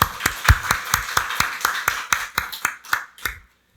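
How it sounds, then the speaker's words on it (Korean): A church congregation at a Sunday worship service claps in unison: about fifteen crisp, evenly spaced claps in a brisk steady rhythm that trail off and stop before the end. "박수로 하나님께 영광 돌리겠습니다."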